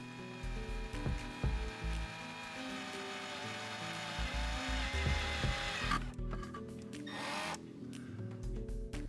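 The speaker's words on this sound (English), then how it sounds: "Running the drill at full speed will quickly ruin the bit and make the material harder to drill through." Power drill boring holes through the steel body of a BMW E34 to fit E39 coilovers, a steady whining motor with grinding bite and uneven surges, close and loud, with no talking.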